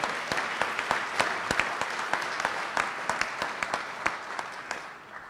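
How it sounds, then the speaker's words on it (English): A round of applause at a West Louisville investment announcement event, steady hand clapping from an audience with distinct sharp claps standing out, moderately loud and uninterrupted by talk. "round of applause, everyone from Goodwill"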